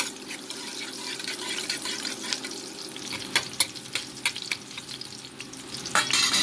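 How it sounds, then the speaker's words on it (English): Cumin seeds sizzling in hot oil in a pan while being stirred: steady crackling frying noise with scraping and clinking of a utensil, building slightly toward the end. "my oil is hot and I am going to add some of my jeera or cumin seed into the oil"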